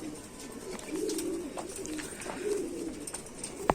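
An original Indian Rampuri pigeon coos in repeated low, throaty rolling phrases at moderate volume, close by, with a quiet steady background and a brief sharp tap at the end.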